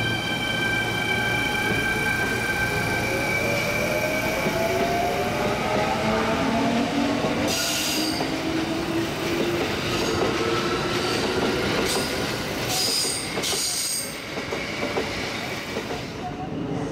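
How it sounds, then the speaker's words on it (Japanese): An eight-car Kintetsu rapid express on the Hanshin Main Line pulls out of Koshien Station on a summer day crowded for the national high school baseball semifinal. Wheels roll and motors whine upward in pitch, with rhythmic clacks and brief metallic squeals, loud and continuous, with some faint voices. "甲子園駅を発車していきます"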